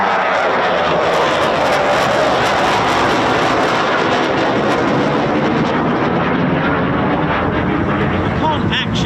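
A Eurofighter Typhoon FGR4 jet flying unseen in horrendous weather near RAF Coningsby, its heavy, continuous roar filling the whole stretch loudly and without a break.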